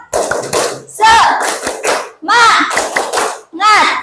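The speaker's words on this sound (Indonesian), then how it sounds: "Masih ingat tepuk semangat?" Children in an Indonesian classroom perform the tepuk semangat, a rhythmic clapping chant, in short loud bursts of claps and voices chanting together, with brief pauses between the phrases.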